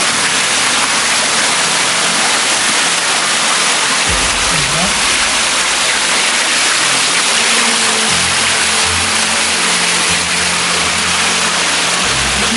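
A waterfall at Moustiers-Sainte-Marie gives off a loud, constant roar of rushing water that fills the whole stretch without a break, with faint low rumbles underneath.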